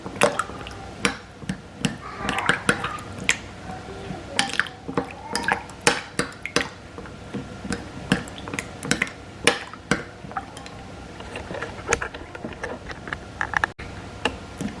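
Wet squelching and dripping as soaked tamarind pulp is squeezed and mashed by hand to free the seeds, with irregular close splashes and soft clicks, and no talk.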